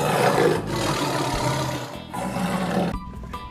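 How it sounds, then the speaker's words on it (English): A plastic toy tiger lets out a continuous, loud, rough roar that fills a few seconds and dips briefly twice, with no talking. "Tiger."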